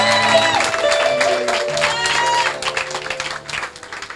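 A church congregation applauds and cheers for a spiritual leader during a worship service, steady dense clapping with sustained organ-like tones underneath, fading slightly toward the end.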